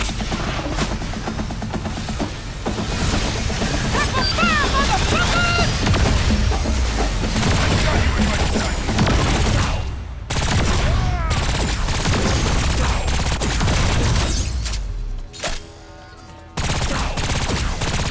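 Sustained gunfire in the Agents of Mayhem video game, loud rapid bursts and volleys running nearly continuously with brief breaks, up close and dense.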